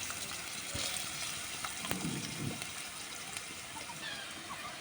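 Onions fry in oil with a steady, close hiss and crackle, broken by a few soft stirring scrapes in a village-style kitchen.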